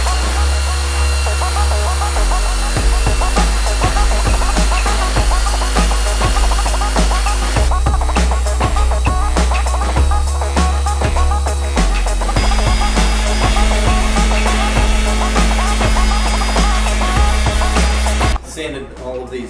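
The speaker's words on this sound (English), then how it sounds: "Sanded all of these really nice and smooth up to 320 grit" A power sander whirs loudly and continuously while bamboo shot glasses are smoothed up to 320 grit, its steady droning tone shifting pitch in a few places before cutting off near the end.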